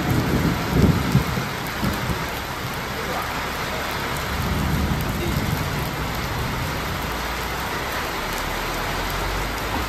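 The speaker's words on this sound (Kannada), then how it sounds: "ಆದರೆ ಮಳೆ ಜೋರಾಗೋಯ್ತು." Heavy rain pours down during a road trip in Karnataka, a dense, constant roar with low thunder rumbling beneath it.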